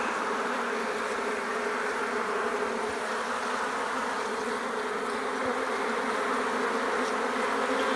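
A dense, continuous hum of many honeybees buzzing close by in an opened hive, steady and loud throughout with no pauses.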